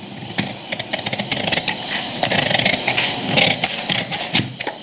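Scissors snip through a paper sewing pattern in quick, irregular crisp cuts and rustles, close up and fairly loud with no talking.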